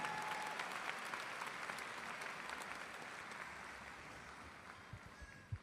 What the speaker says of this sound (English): Let's give another round of applause for Niti Santosh Swami.